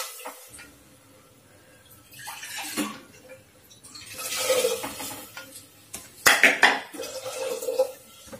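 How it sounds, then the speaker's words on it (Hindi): Water poured into a cooking pot over spiced grain (sanwak/barnyard millet) in a home kitchen, a splashing pour near 4–5 s, with metal pot and utensil clinks and scrapes around it; no talk. "फिर जितना पानी इसमें लगता है उतना डाल देती हूँ।"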